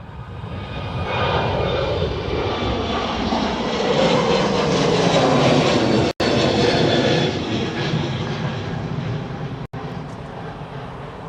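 A JetBlue jet airliner bound for JFK takes off from Dublin Airport, a loud, steady, broadband roar of jet engines that swells and holds throughout, with no talk over it.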